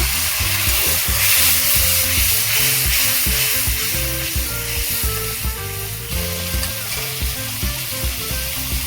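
Water poured into a pan of fried gang mouti fish, setting off a loud, continuous hissing sizzle with bubbling underneath throughout.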